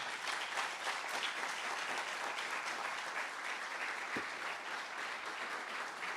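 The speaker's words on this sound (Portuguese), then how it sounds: "dá uma salva de palmas para Jesus" A church congregation applauds for Jesus during a Portuguese-language sermon, steady dense clapping filling the whole stretch at an even level, with no voices rising above it.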